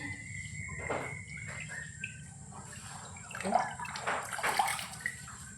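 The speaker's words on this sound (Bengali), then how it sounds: "খিচুড়ির জন্য চালটা ধুয়ে নিচ্ছি।" Rice for khichuri, about 250 grams, gets washed in water with quiet, intermittent sloshing and swishing bursts that grow busier toward the end, over a steady chirr of crickets.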